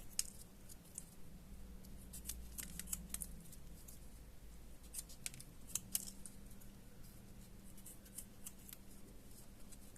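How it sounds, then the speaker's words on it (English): Scissors snip through excess cotton on a handmade mini pie charm, a series of small quiet clicks and cuts at close range over a steady low background hum. "I'll need my scissor to remove the excess"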